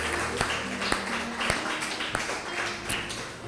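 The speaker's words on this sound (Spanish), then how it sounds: "Y si quiere darle un fuerte aplauso al Señor de una vez" A church congregation claps during a worship service, a few sharp separate claps over a low sustained tone, fairly quiet and sparse rather than a full ovation.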